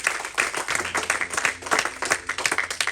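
A church congregation claps loudly for a few seconds in a rhythmic, dense burst of applause, with some faint voices mixed in under the clapping.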